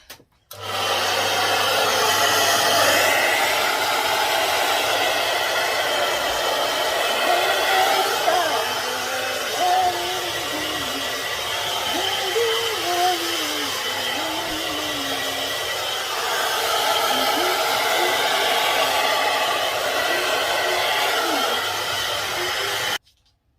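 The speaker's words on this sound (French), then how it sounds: "Le sèche-cheveux." A hair dryer blows steadily and loudly for over twenty seconds, its airflow wavering slightly as it moves, with faint rubbing sounds underneath.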